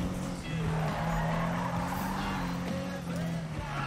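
Car drifting in Need for Speed 2015, a steady engine drone with long tire squeal throughout the slide, close and loud, with a voice faintly talking beneath it.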